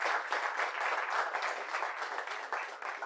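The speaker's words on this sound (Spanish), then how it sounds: "le pido un aplauso fuertísimo de parte de ustedes" An audience at a university physics colloquium anniversary event gives a sustained round of applause, an even, moderately faint patter of many hands clapping throughout.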